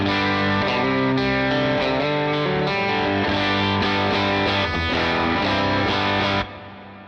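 Distorted electric guitar through a Line 6 HX Stomp amp model with legacy plate reverb plays a chugging riff with sustained chords, washed in reverb, then the notes ring out and fade into a lingering tail.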